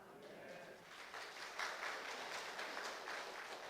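A church congregation applauds softly during a Sunday service, a faint, steady patter of clapping heard from a distance with no clear speech over it.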